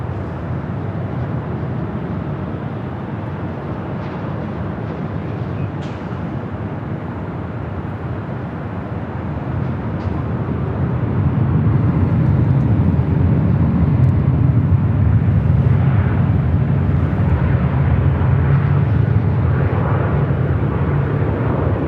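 A Delta airliner rolls for takeoff on runway 24 left at LAX, its engines a broad low roar that swells partway through and then holds loud and steady, heard from a distance with no voices.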